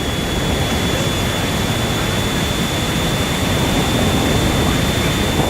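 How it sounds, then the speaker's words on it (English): A jet fan roars loudly and steadily, like a jet engine, with a constant broadband rush and a faint high whine throughout. "My jet fan actually sounds like a fucking jet."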